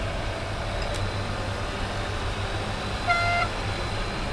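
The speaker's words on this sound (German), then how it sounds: "Ich glaube, Hupen?" Car horn in the game Crowns and Pawns: Kingdom of Deceit, one short toot near the end over a low, steady engine hum, fairly close and without talk.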